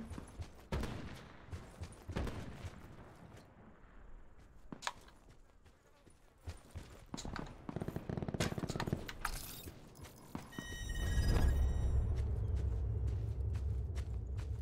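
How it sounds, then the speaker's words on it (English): Scattered gunfire in a tactical shooter video game: irregular sharp shots and bursts at varying distances, with clattering gear sounds and a louder, denser stretch of firing near the end. "There's still a little gunfire coming from the southeast of me, us."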